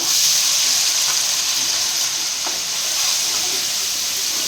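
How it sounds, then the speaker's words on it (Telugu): Masala fries in a pan for a jilebi fish curry, making a loud, continuous bright sizzle with faint stirring scrapes underneath. "మసాలా బాగా ఫ్రై అవ్వాలి ఇది మాడగొట్టకుండా ఇంకా బాగా ఫ్రై అయితే చేసుకోవాలి"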